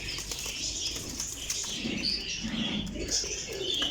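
Pigeons flutter and flap their wings in short bursts nearby, with soft coos and rustling throughout.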